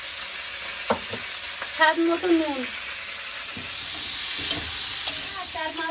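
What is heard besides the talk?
cauliflower frying in a wok with turmeric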